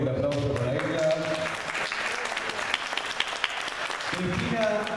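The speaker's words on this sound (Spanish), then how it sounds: "Muy bien, fuerte el aplauso para ella." A crowd claps loudly and continuously at a diploma ceremony marking an exhibition opening, dense applause filling the room while a voice speaks at the start and again near the end.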